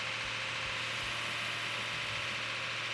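A freshly built car engine idles steadily just after its first fire-up, giving a continuous, even rumble with a faint hiss above it and no talk over it.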